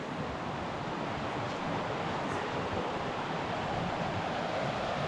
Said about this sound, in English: These rapids were worth the trip down here